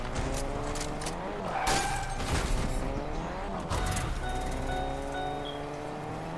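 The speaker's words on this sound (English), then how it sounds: "So let's go to it with our lime green car." A lime green car in a video game drives with a continuous engine drone, rising and falling pitch and brief tire skids throughout.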